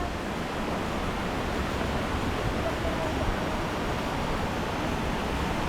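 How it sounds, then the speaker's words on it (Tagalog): Mantayupan Falls in Cebu, Philippines sends a steady, dense roar of falling water pouring down without a break, loud and close throughout. "Yan bagsakan yung tubig, oh."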